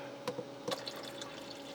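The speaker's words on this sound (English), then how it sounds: "I just want to put some more water in her" Tap water trickles into an Evapolar Light Plus evaporative cooler, a few soft drips and splashes over a quiet steady hum, faint and close.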